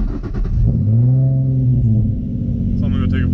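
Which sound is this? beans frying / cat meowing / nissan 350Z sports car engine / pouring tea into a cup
nissan 350Z sports car engine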